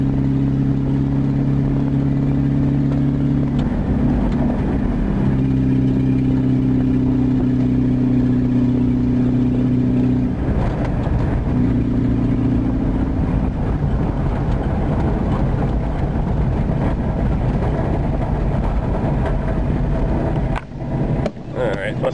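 An old Rabbit car engine runs floored at full throttle but moves sluggishly, a steady droning hum with wavering pitch, as people talk over it.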